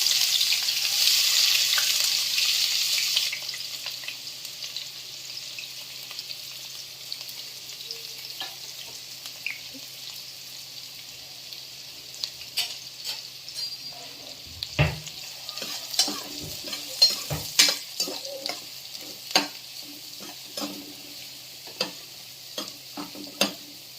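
Chopped onions fry in a pan, starting with a loud hissing burst, then a quieter steady sizzle with many irregular scraping and clicking stirring strokes nearby, and no voices.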